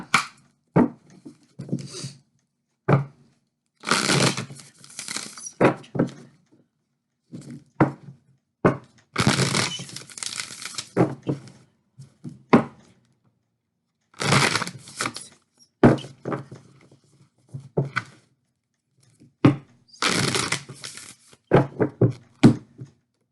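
A deck of tarot cards is shuffled in repeated close bursts of papery riffling and slapping, separated by short silent gaps.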